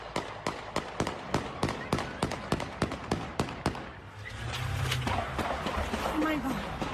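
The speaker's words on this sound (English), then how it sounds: "You can just hear all of those gunshots and the people running for cover trying to save their lives." Rapid string of gunshots at a Midtown Atlanta retail district, over a dozen sharp cracks in quick succession, followed by a rumbling commotion of people fleeing with voices heard.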